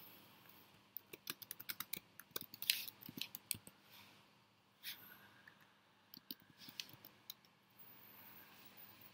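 Typing on a computer keyboard during a recorded law lecture, a quiet burst of irregular key clicks with brief pauses between flurries, close and faint, with no talk.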